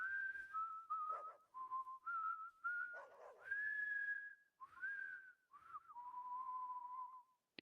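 A character in the video game Deadly Premonition 2 whistling a tune, clear and close, a melody of held and sliding notes broken by short pauses.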